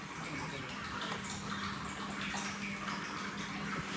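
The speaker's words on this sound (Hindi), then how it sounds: "तो फाइनली हमारा नल पानी चालू हो गया है, अभी टंकी भर रहा है" Tap water runs into a water tank with a continuous splashing, gurgling flow at moderate distance, with a faint low background hum and no speech.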